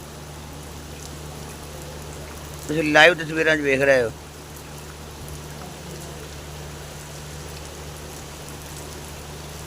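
Heavy rain falls in a constant, even wash of noise throughout in Mamdot, Ferozepur district, Punjab, while someone speaks briefly over it near the middle.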